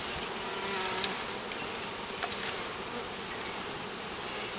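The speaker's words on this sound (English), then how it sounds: "Now we got a big pile of bees in there" A thick, continuous buzz of a mass of bees close by, steady and even, with a couple of faint bumps.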